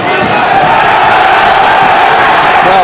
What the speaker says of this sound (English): the crowd aren't happy with how that free kick was taken there